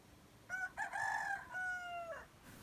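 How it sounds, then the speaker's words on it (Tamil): A native country rooster on a farm gives a single full crow. It rises, holds, then trails off, and sounds slightly distant against a quiet background. "அதுக்காக தான் சேவலை கூவ வச்சோம்"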